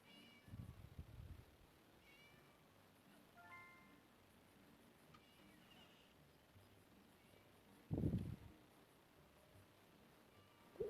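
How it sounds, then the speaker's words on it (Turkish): A cat meows a few times, spaced apart, in the video game Scary Teacher, over a quiet background with faint electronic chimes. "Arkadaşlar kedi."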